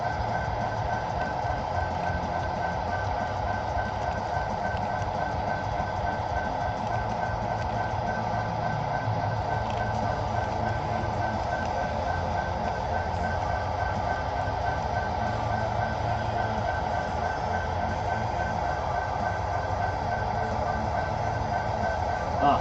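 Model trains, including a CSX locomotive, run continuously on a small loft layout with a steady motor hum and rolling wheel noise throughout, close and fairly loud, with no talking.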